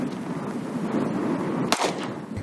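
A single sharp gunshot from a Springfield XD9 pistol cracks out in open desert, loud and close, above a steady wind-like outdoor rumble.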